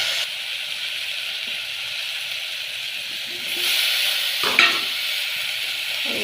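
About 300 grams of chicken stirred and frying in a pan for a home-style Tamil chicken kulambu, giving a steady close sizzle with a stronger scrape and hiss of stirring near the end.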